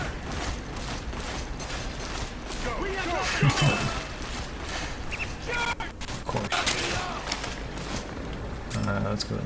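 Gunfire in the video game Metal Gear Solid 4, with bursts of rapid shots and mechanical clacks running through a dense battle mix of shouting soldiers and other effects, at steady moderate loudness.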